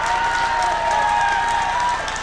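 Sustained crowd applause and noise fill a high school boys' basketball game between the Pierre T.F. Riggs Governors and the Douglas Patriots, steady and loud throughout, with a faint tone running under it.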